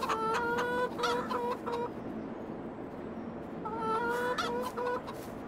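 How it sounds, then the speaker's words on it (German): Flock of chickens in Farming Simulator 22 clucking steadily with tonal, repeated calls, busier at the start and again toward the end, with no voices over them. "Na, ihr doofen Hühner."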